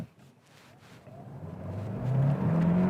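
A Hyundai Tucson compact SUV with H-Track all-wheel drive launches in sport mode, its engine building from a low hum into a rising, strengthening drone as it accelerates, fairly faint and without talk.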